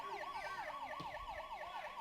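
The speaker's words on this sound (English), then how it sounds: "As we've got an issue with the clock in the stadium here, the siren's going off" A stadium clock siren malfunctions during a soccer match at Edmonds District Stadium between Puget Sound Gunners and Vancouver Whitecaps, wailing up and down in a steady repeating cycle, moderately distant and continuous, with faint crowd ambience underneath.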